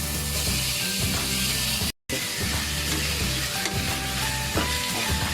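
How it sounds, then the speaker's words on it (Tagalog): Pork belly sautéing in a dry pan without added oil for Bicol Express, giving a steady, close sizzle with stirring scrapes that runs the whole time apart from a brief silent gap near the start. "Atin muna itong isasangkot siya o igigisa."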